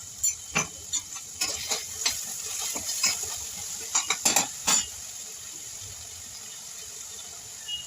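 Onions fry in a pan with salt and ginger garlic paste, a soft sizzle under a series of spoon-and-pan clinks and stirring scrapes, fairly close and moderately loud.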